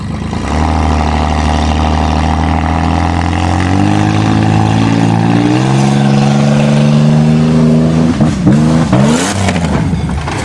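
A 1994 Chevrolet Cavalier engine idles, then revs higher and higher as the car pulls away, ending in a few sharp bursts of acceleration and a clatter.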